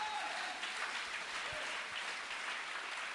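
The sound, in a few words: congregation applauding in church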